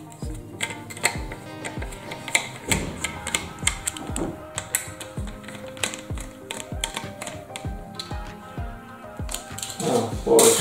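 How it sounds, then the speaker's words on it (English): A screw is being backed out of the base of a white 40 cm (16-inch) pedestal fan, giving a run of irregular ratcheting clicks and light metallic ticks at close range, with a few handling knocks. "Take out this screw"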